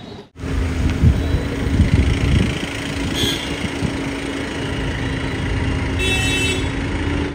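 Trucks and other vehicles sit in a long highway traffic jam, their engines idling in a steady, loud rumble, with a brief horn toot now and then.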